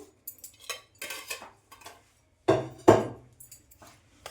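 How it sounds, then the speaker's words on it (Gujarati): Bread pakoda batter of gram flour with baking soda and coriander stirred in a bowl, a few separate bursts of spoon clinks and scrapes against the bowl with short pauses between, close by. "અને પાછું બધું સરસ હલાવી લેશું"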